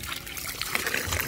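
Water running from a newly installed supply line at a small hut, a steady close trickling and splashing flow that fills the brief moment.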